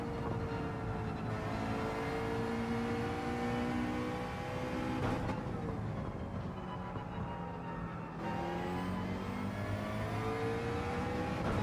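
A McLaren Group 3 race car engine howls steadily while lapping in Gran Turismo 7, its pitch rising and falling through gear changes, a continuous moderately quiet whine with no talk.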